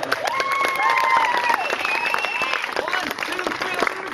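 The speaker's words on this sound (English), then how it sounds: "give him the biggest round of applause he's ever had" Crowd applause and cheering for Jim, a volunteer helper at a juggler's street show on Disney's Boardwalk, steady and dense with whoops and voices rising over the clapping throughout.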